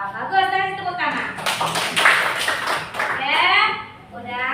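A class of children claps in a short burst in a classroom, the quick, close clapping set between a teacher's spoken lines at the start and end.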